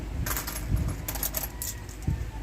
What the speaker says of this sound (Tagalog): Ito yung mga barya na iniipon-ipon ko guys sa bawat mga 20 na mga sukli-sukli sa akin